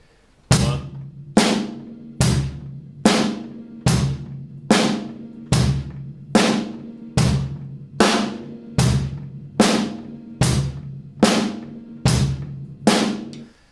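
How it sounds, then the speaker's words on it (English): A steady rock drum groove: alternating deep kick and snappy snare hits with hi-hat on every beat, loud and close, played alone for several bars. "So bass drum on beats 1 and 3, snare drum on 2 and 4 with the hi-hat."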